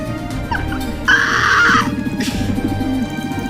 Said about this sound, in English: The pigeons are fucking attacking.